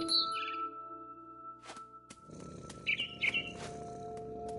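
Small birds chirp in the video game What Remains of Edith Finch, a few quiet, high tweets and short calls over a soft ambient hum and low rustling. No voices are heard.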